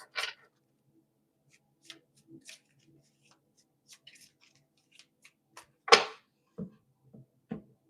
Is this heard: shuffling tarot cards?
yes